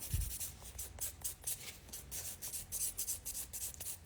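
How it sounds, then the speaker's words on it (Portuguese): Rapid back-and-forth buffing of a fingernail with a file, a close, scratchy rubbing in quick even strokes that repeat steadily for several seconds without any talking. "Então, eu vou polir."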